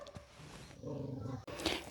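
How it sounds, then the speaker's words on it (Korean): A dog at a home with a succulent garden and rows of clay crocks growls and gives a short bark nearby, a rough sustained growl followed by a louder yelp-like outburst. "댕댕이 계속 짓고 있습니다"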